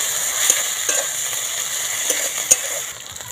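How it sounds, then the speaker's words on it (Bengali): Onion frying in oil with garlic paste and ginger paste, stirred with a spoon: a steady close sizzle with a few sharp scraping clicks of the spoon against the pan. "সব মশলাগুলো খুব ভালো করে ভাজা হয়ে গেছে।"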